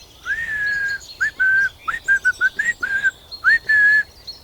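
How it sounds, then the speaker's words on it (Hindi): A caged parrot whistles a run of clear, high tonal notes, one longer opening whistle followed by a quick string of short chirpy whistles and a final held note, loud and close with no talking. "सीटी बजा सकता हूँ।"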